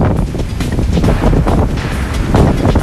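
Strong storm wind buffeting the microphone in a gusty, continuous broadband roar with surging rises and falls, loud and close, with a hint of water or waves underneath and no speech.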